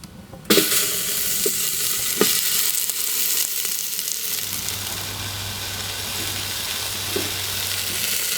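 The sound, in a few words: fallow deer meat sizzling for a stew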